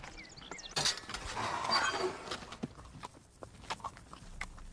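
Horses walking, their hooves clip-clopping in an irregular rhythm that is close and moderately loud, with some rustling and a faint clink, and no voices.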